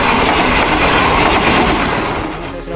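A train runs past at close range on the railway line, giving a loud, continuous roar and clatter of wheels that eases off slightly at the end.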